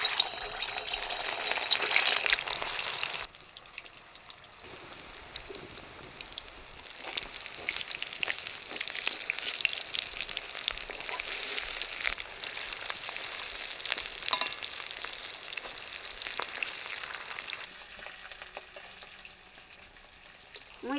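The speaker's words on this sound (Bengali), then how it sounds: "তেল গরম হয়ে গেছে, আনে মুইটাগুলো ভেজে নেবো।" Chitol fish muitha dumplings crackle and fizz in hot oil, a steady broadband sizzle that swells and dips as pieces settle, with occasional stirring and soft water-like splashes and no talk.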